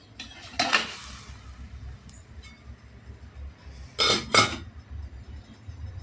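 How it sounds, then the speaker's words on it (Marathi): A dhokla tin is set into a metal steamer pot with a few sharp metallic clinks and clatters, two clustered bursts separated by quieter kitchen handling, close and without talking. "आणि आता आपण ते स्टीम करायला ढोकळा ठेवूया"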